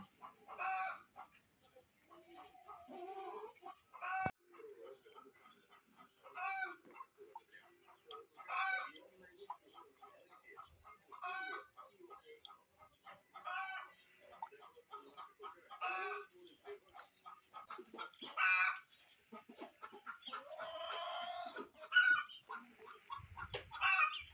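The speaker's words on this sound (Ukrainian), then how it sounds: "А тут у нас підростають вже нові петушки." Young roosters cluck and squawk repeatedly in short bursts, fairly close, with a few strained attempts at crowing toward the end.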